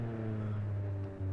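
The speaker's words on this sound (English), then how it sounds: "Mean little growl when it starts up." An Italian sports car engine starting up in BeamNG.Drive on an Italian countryside road, a low, steady, close growl with a strong hum that dips briefly near the end before resuming.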